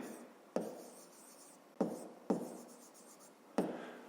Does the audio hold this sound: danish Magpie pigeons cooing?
no